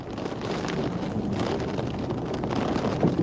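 Strong storm wind in central West Texas roars and buffets the microphone continuously, a dense, loud rushing with gusty surges and no pauses.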